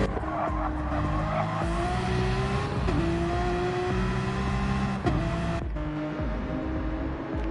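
A Jaguar race car on a hot lap at Interlagos squeals its tyres through a corner. Loud, sustained skidding rides over a rising and falling engine note, close and continuous.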